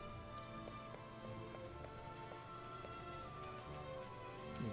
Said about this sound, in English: Sure is rain.